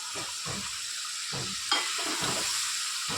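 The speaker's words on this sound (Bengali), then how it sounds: "এবার সয়াবিন ভাজাটাকে আমি দিয়ে দিলাম" Fried soybean pieces stirred in a sizzling pan for soybean chilli, a steady frying hiss with repeated scraping strokes of the spatula, close and fairly loud, no talking.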